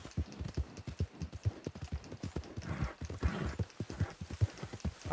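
Galloping horse in Red Dead Redemption 2, riding toward Blackwater: a steady, fast clip-clop of hoofbeats runs throughout, close and fairly loud, with a brief whinny-like sound in the mix.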